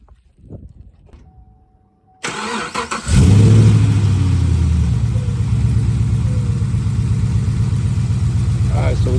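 A 2014 Chevy Camaro SS V8 cranks and fires at close range, then rumbles on at a loud, steady idle with slight rev swells, after a few seconds of quiet handling noises.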